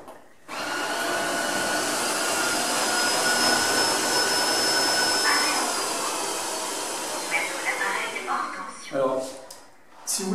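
A Tineco Floor One S3 cordless wet vacuum cleaner runs steadily while cleaning a floor, a loud continuous whining motor hum that starts abruptly and then fluctuates near the end as it is moved around.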